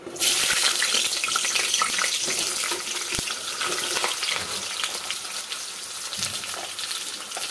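Pointed gourd and potato pieces fry in hot white oil in a kadai, a loud, dense sizzle that stays steady throughout with faint stirring scrapes and no talk.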